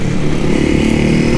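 A 2023 Honda Start 160 motorcycle fitted with an aftermarket exhaust, its engine running loud and close with a rough, steady throaty drone and no voices over it.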